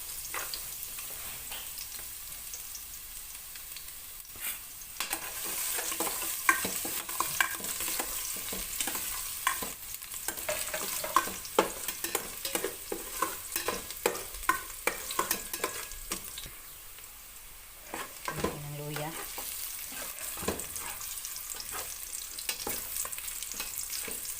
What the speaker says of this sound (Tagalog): Gisahin. Bawang.